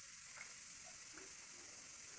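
Spicy tuna spaghetti sauce stirred in a pan, a quiet, steady sizzle with soft scraping of the spoon, heard alone without voices.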